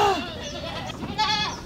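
Etawa goats bleating while being fed in Padang, with one wavering bleat at the start and another near the end, close and fairly loud, and a faint voice in the background.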